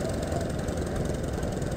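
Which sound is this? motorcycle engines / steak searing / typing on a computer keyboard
motorcycle engines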